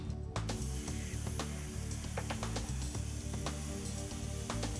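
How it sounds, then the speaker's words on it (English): A Powermax125 plasma cutting torch starts its arc on a metal workpiece, giving a loud, steady, close hiss with a low electrical hum underneath and a few faint clicks. "The pilot arc transfers to the workpiece and becomes the cutting arc."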